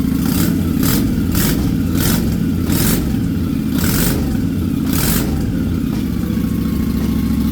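A 2003 Honda VT Shadow 750 ACE motorcycle runs loud and close, its deep, steady idle punctuated by a string of quick throttle blips roughly every second.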